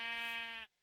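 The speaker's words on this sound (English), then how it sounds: "Come across a sheep" A sheep in the Minecraft game gives one short, clear bleat lasting just over half a second, heard alone and cut off abruptly.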